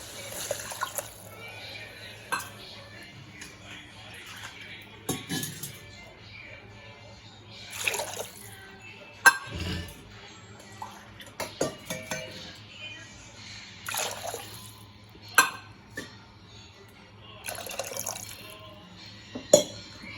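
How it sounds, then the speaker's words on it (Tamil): Water being added to a pot for one-pot rice in a home kitchen, quiet trickling and splashing mixed with intermittent metallic clinks of utensils and pot, fairly soft and close. "தண்ணி சேர்க்க போகிறேன்."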